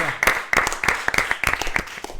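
A live show audience claps steadily, sharp irregular hand claps filling the space at close range.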